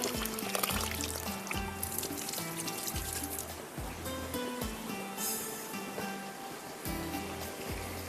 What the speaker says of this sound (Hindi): इसका थोड़ा सा पानी निकाल लेते हैं।